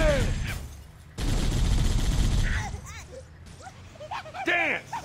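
Gunfire from a firefight in the Halo video game, a burst of dense shots opening and returning after a pause, loud and close, mixed with game voices and effects.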